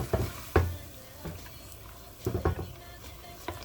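Scallion and onion fry and get stirred in a pan: a soft sizzle runs underneath while a utensil scrapes and taps in a few quiet, irregular bursts.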